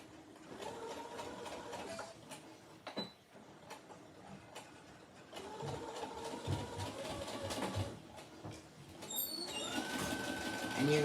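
A sewing machine stitching a ruffle sock runs in steady whirring bursts, pausing briefly and starting again, with a faint rhythmic mechanical hum at moderate distance and no talking.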